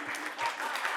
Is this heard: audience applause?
yes